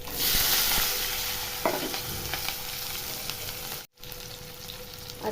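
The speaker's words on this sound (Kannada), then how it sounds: "ಕಟ್ ಮಾಡ್ಕೊಂಡಿರೋ ಈರುಳ್ಳಿ ಮತ್ತು ಹಸಿಮೆಣಸಿನ್ಕಾಯಿನೂ ಕೂಡ ಹಾಕ್ಕೊತಾ ಇದ್ದೀನಿ" Chopped onion and green chili frying in hot oil with mustard seeds for a tempering, a constant close sizzle with stirring and crackle, broken once by a brief silence.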